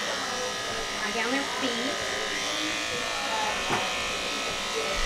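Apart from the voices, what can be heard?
electric clippers shaving an animal's surgery site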